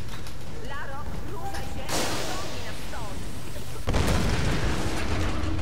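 Loud booming blasts and rumbling bursts from the video game Tomb Raider, with a heavy explosion near the end over a dense, noisy background.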